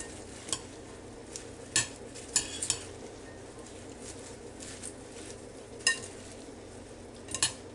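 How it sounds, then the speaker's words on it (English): Romaine salad ingredients are tossed together in a bowl, with scattered utensil clicks and soft rustling strokes at an uneven pace, fairly quiet and close. "we're just going to stir it all together"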